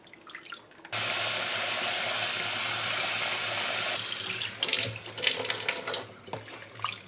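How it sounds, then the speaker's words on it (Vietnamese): Water runs from a tap as grated coconut is rinsed for coconut jam, a loud steady gushing stream that starts abruptly, then shifts to uneven splashing and sloshing as the coconut is stirred and rinsed in the water. "Bây giờ mình sẽ rửa cho đến khi nước trong nè."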